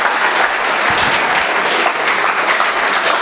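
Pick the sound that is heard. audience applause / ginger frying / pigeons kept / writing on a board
audience applause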